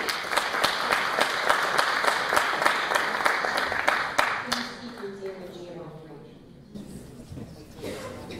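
An audience at a food and health talk breaks into dense, sustained applause that fades out over several seconds, leaving murmuring voices and scattered sounds in a quieter room.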